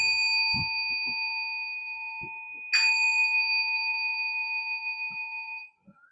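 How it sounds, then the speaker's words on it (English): Two meditation bells ring to close a Soto Zen Sunday service, each a clear, sustained metallic strike whose tone slowly decays, the second struck about three seconds after the first, with faint room noises between. "We'll let Suki lead us in the bells."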